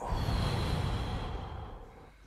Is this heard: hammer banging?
no